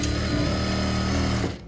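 A sewing machine runs a steady seam while a tailor stitches a waistcoat, a loud, continuous mechanical whir with a fast even rhythm that cuts off abruptly near the end.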